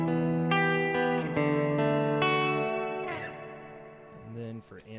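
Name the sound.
guitar through pedalboard effects with reverb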